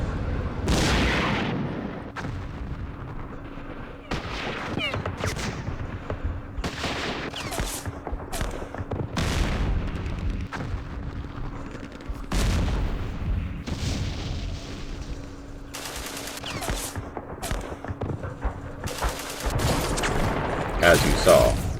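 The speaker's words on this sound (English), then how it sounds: "the artillery is very effective at killing tanks, especially if they're bunched up" Artillery fire in Campaign Series Middle East lands as repeated booms and blasts at an irregular rhythm, some loud and close, some distant, mixed with gunfire and a voice talking over it.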